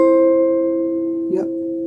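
An acoustic guitar plucks a chord pattern from a song, with notes sustaining and decaying over a soft finger squeak partway through, alone.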